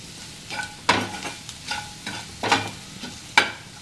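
Onion curry fries in a pan while a spoon stirs it, giving a soft steady sizzle broken by a few sharp scraping clacks of the utensil against the pan, close and without talk.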